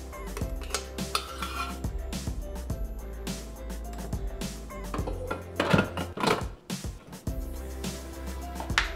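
Garlic being taken out of a Thermomix mixing bowl while cooking pasta with peppers: metallic clinks, scrapes and clatter of utensils against the bowl, steady and close, with a low machine hum underneath.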